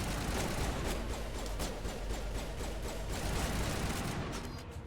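In Mass Effect 1, dense, continuous enemy gunfire rattles for about five seconds as a steady fusillade of overlapping rapid shots, loud and unbroken, with no talk.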